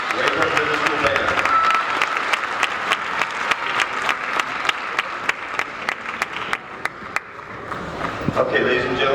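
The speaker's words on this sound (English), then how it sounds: "Can we please give it another round of applause to the 2025 sweepstakes winning Rayburn Middle School Band." An audience at a winter band concert applauds the sweepstakes-winning Rayburn Middle School Band, a full steady wash of clapping with sharp individual claps, tapering near the end as a voice begins speaking.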